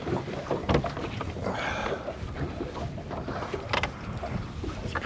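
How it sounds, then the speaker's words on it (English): Gusty wind buffets the microphone outdoors on a boat, a steady rushing low noise with occasional louder thumps and water sounds. "It's pretty windy out today."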